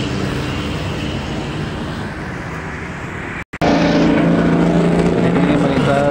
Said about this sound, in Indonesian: Ini melintas angkutan dalam provinsi Teguh.